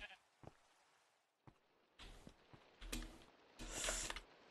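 Blocky video-game sheep in Minecraft bleat in several short, loud bursts, the last one longest, with quiet gaps and faint clicks between them.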